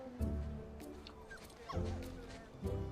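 A dog gives short barks and yips at a kite festival sign-up, three brief bursts spread over a few seconds, with a voice talking alongside.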